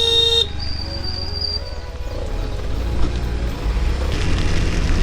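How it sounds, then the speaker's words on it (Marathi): A single short horn toot sounds at the start, then steady vehicle engine rumble and road noise continue without pause on a rainy Konkan road ride. "आपण त्याला हॉर्न देऊन ओरट्या करूया"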